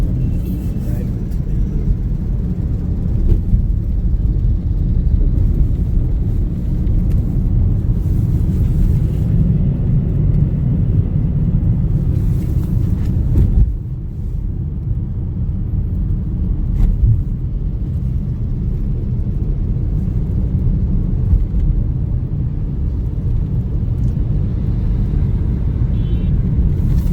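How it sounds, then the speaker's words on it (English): Inside an Uber car moving through heavy Lagos traffic, a continuous low road rumble and engine drone carries on steadily throughout, with a brief dip midway and a voice talking over it at times. "I'm in the Uber ride right now going back down to VI"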